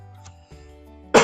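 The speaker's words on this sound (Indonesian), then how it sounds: "Agak batuk dikit ya." A man gives a single short, sharp cough, loud and close, right after a low steady hum of background quiet, during a spoken lesson on Excel formulas.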